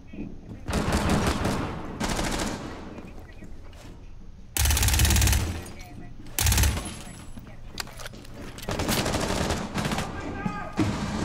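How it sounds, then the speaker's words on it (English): Gunfire in Rainbow Six Siege on the Kafe Dostoyevsky map, loud bursts of automatic fire and heavy impacts in a team deathmatch, mixed with game sounds and a player's voice talking over the action. "They're shooting in this window now too."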